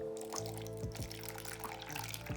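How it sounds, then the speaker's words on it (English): Water is poured slowly in a thin, soft trickle for making homemade bouncy balls, faint and continuous against a low indoor hum. "I'm gonna just pour the water slowly"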